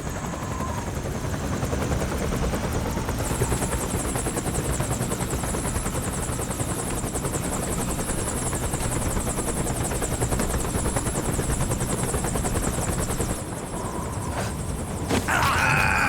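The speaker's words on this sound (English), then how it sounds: "Sounds outside a helicopter." A helicopter in Metal Gear Solid 4 gives a steady rotor drone that thrums for a long stretch, loud and close, briefly dipping before surging back near the end.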